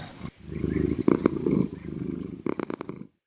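A cat in the Minecraft video game purrs close and steady as a low continuous rumble, with a few short, sharper bursts near the end before it cuts to silence.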